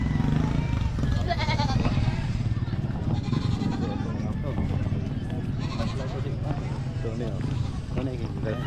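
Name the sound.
goats bleating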